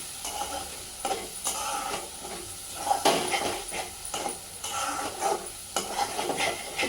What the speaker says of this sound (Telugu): ఆయిల్ మంచిగా వేగింది పైనకి.